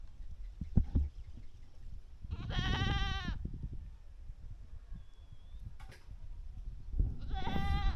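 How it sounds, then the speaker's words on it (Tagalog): An agitated goat in Cebu, Philippines lets out two loud, quavering bleats a few seconds apart, close by, amid rustling and scuffling noises outdoors. "Ay, galit yung kambing oh."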